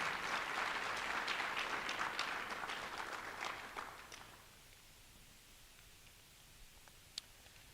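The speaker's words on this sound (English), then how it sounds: "But one more round of applause." Audience applause at a hall of fame induction ceremony: a dense round of clapping that thins and fades out after about four seconds, leaving a quiet room with a lone faint clap.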